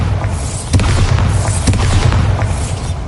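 A Bombarda blasting spell in the Hogwarts Legacy video game, loud booming explosions with a couple of sharp bursts over a dense rumbling low-end bed, continuous for about three seconds.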